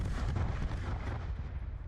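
A grenade explodes in Call of Duty Black Ops 4 as a dense, rumbling low boom that stays heavy for about two seconds, fairly quiet in the mix, with no voices.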